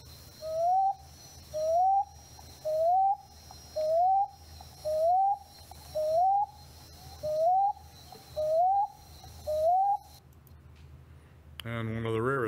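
Nine evenly spaced rising hoots that mimic a barred owl's call, each about a second long and separated by short gaps, followed by a brief burst of other tonal sound at the end; a voice imitates the call.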